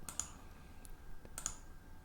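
Two sets of crisp mouse clicks, well spaced and close, in a quiet room while resetting the Xero demo company.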